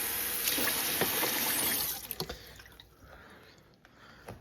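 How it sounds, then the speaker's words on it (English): Water splashes and runs steadily into a container for about two seconds, then stops, leaving a few scattered drips, while mixing pykrete from water and wood pulp. "So let's just fill this with some water."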